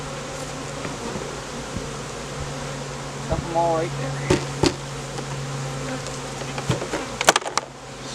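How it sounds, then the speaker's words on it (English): A dense, continuous buzz of many honeybees close by in a hive box, with someone speaking briefly and some knocking and bumping sounds near the end as the bees are knocked down into the box. "we're going to knock all these bees down in the box"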